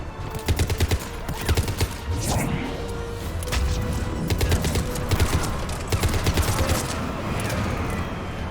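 Enemy gunfire in a Mass Effect 3 firefight, with rapid bursts and single sharp shots crackling on and off for several seconds amid loud combat noise.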